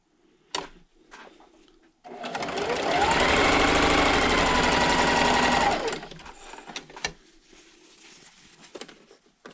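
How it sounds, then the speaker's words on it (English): Sewing machine stitching batik quilt squares with right sides together, a close, steady mechanical whirr lasting a few seconds between quieter handling clicks and rustles of fabric. "grab my next piece, make sure that the right sides are touching, and sew"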